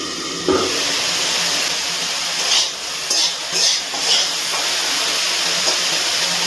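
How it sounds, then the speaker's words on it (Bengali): Broccoli frying in oil in a covered pan over low-to-medium gas flame; a steady close hiss of steam and sizzle, with a clatter as the lid is lifted and a few brief bursts of louder spitting. "গ্যাসের ফ্লেমটা লো টু মিডিয়ামে রেখে একটা ঢাকনা দিয়ে ঢেকে ব্রোকলিটা ভেজে নিচ্ছি।"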